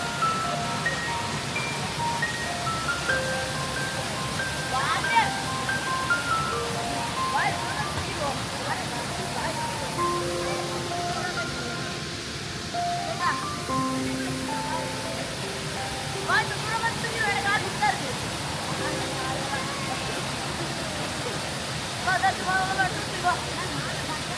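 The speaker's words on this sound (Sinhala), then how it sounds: "අපි ඇවිල්ලා මණ්ඩාවල ඇල්ල බලන්න හරිම ලස්සන දේ ඇල්ල" Mandawala waterfall in Sri Lanka pours in a steady, broadband rush of falling water that fills the whole stretch, with people talking over it throughout.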